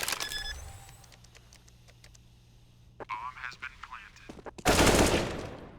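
Rapid bursts of Counter-Strike gunfire ring out in a Mirage match between pro100 and GoodJob. Sharp clustered shots come first, then a loud, dense spray near the end, all under a commentator's voice.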